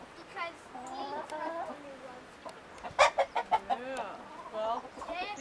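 Chickens cluck nearby in a quick run of short, rhythmic calls, with a voice talking alongside them.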